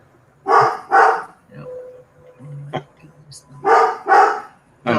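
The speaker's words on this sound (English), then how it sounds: "I think the dog agrees." A dog barking close by in a live indoor chat, two pairs of sharp, loud barks separated by a pause, with quieter sounds in between.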